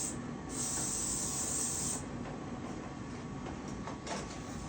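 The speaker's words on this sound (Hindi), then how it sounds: "देन हेयर स्प्रे का यूज करेंगे।" Hair spray hisses from an aerosol can onto a finished bun hairstyle in two bursts, a long close spray followed by a short one after a pause, with quiet rustling between them.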